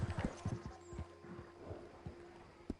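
Close, clopping hoofbeats from a horse in Red Dead Online fall in an uneven walking rhythm, a few louder thuds standing out against a low ambient hum.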